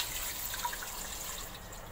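Water pours steadily into a pressure cooker holding beef and spices, a continuous splashing gush heard up close.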